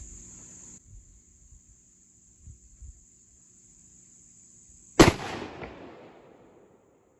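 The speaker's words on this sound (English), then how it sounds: "I'm going to shoot one more and I may adjust it down." One loud, sharp rifle gunshot during sighting in cracks out and decays quickly. Before it there is a long quiet stretch with a steady insect-like whine and faint rustling.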